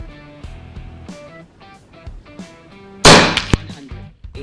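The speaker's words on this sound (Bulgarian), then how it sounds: "Още един изстрел да видим." An Effecto Spark Mini 5.5 mm air rifle fires a single sharp, loud crack with a bright burst, standing out over a steady background of music.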